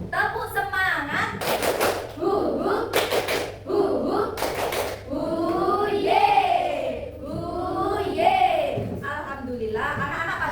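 A classroom of children performs the rhythmic "tepuk semangat" clapping chant, with sharp bursts of patterned clapping followed by loud group chanting voices.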